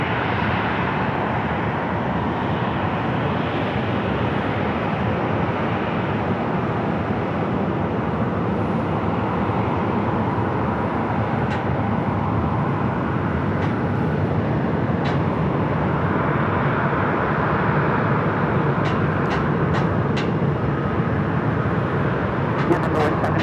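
A fixed-wing aircraft called Copper 6 landing on runway 7 right at Phoenix Sky Harbor, a continuous distant jet roar that builds slightly toward the end, with faint clicks and someone talking over it.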